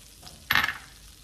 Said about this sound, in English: So now I've got this butter starting to melt down pretty good. I'm gonna kinda like let it sit for a second, and I'm gonna put the garlic cloves in.